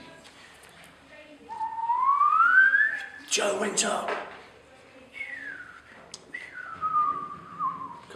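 A person whistles rising and falling tones in several short phrases, close and fairly loud, alternating with a speaker telling a story aloud.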